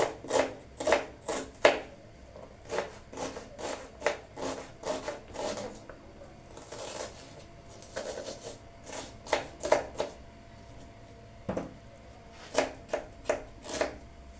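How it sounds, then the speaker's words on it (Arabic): A knife chops through an onion on a cutting board in a home kitchen, giving quick, crisp taps in uneven clusters with short pauses, close and fairly quiet. "وهنا كما كتشوفوا غادي نقطع البصله"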